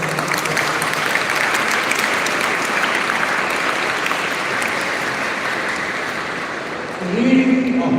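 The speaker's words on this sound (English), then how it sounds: "all of us deserve a mighty applause" Sustained applause from a crowd, steady clapping throughout that swells slightly louder near the end.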